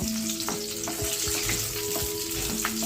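Steamed peas being stirred in a pan over low heat, with a soft continuous sizzle broken by several scraping strokes of the spoon at an even pace, heard close and alone with no voices.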